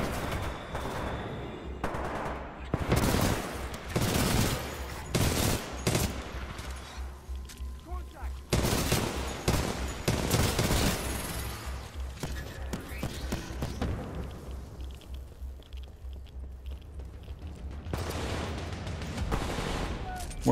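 Dense gunfire in Titanfall 2, with bursts of rapid automatic shots and heavier thumping blasts rolling through a chaotic firefight, broken by a few brief lulls, while players talk underneath.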